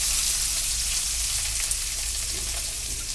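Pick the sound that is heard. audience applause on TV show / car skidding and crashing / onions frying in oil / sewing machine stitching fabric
onions frying in oil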